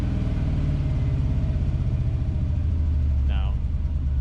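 A 5.3 V8 truck engine idles with hanging RPMs. A loud, steady low rumble shifts slightly in pitch partway through, and a voice can be heard over it.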